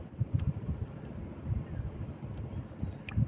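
Motorized fishing boats out at sea rumble in the distance as a low, pulsing drone, partly masked by gusty wind buffeting the microphone, with no talk in between.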